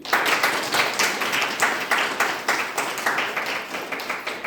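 An audience at a DXN program in Banke, Nepal claps for a guru in rhythmic, unified beats, loud and close, keeping a steady pulse throughout.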